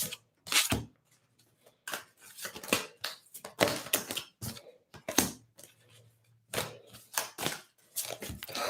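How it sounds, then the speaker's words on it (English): Tarot cards are shuffled close by in quick, papery bursts of riffling and slapping that start and stop irregularly, with brief pauses between handfuls. "when I shuffle the cards as well"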